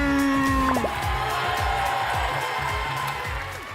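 A television studio audience applauds loudly for a contestant named Fatou, sustained clapping and cheering layered under bright game-show music with descending musical swoops near the start.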